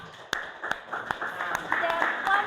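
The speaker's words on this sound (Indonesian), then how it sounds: "Tepuk tangan lagi untuk kelompok" Classroom clapping for a student group during a teacher training session, a few sharp claps rising into a short round of mixed hand claps with voices talking underneath.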